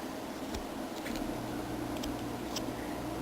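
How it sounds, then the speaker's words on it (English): An air conditioner runs indoors in September as a faint, steady whooshing drone with a low hum, punctuated by a few light ticks and taps from nearby work. "So, the noise you hear is the air conditioner."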